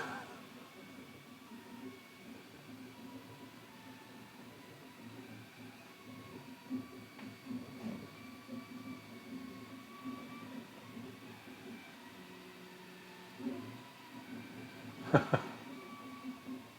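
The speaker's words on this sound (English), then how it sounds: "We are printing." 3D printer printing a Benchy test model, faint whirring stepper motor tones with shifting pitches and occasional soft clicks, a quiet mechanical hum throughout.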